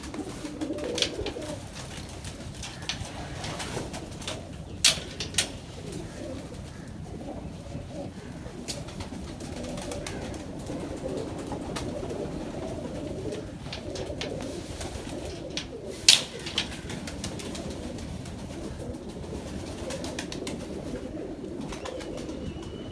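Soft pigeon coos murmur over a steady outdoor background, with a few sharper flutters or clicks scattered throughout.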